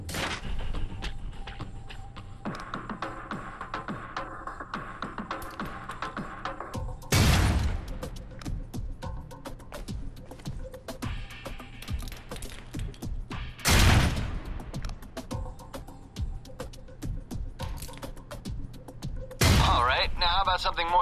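Concussion grenade rounds in the game Alpha Protocol: three heavy booming explosions spaced several seconds apart, each a loud broad blast that quickly fades, with lighter clicks and thuds of gameplay between them.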